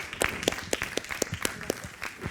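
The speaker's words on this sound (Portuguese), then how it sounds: "Un aplauso, por favor" Sparse, scattered applause from a small audience at a multi-stakeholder dialogue event on Mozambique, with distinct individual claps spaced irregularly and moderately quiet.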